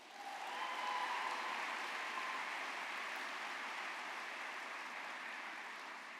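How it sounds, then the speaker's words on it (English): Graduates and families at a 2019 spring commencement ceremony at Bowling Green State University applaud, a dense, steady wash of many hands clapping that swells in the first second and holds evenly throughout. "Give yourselves and those who supported you a big round of applause."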